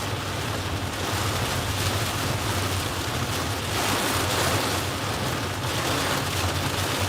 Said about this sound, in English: That's a lot of rain coming down.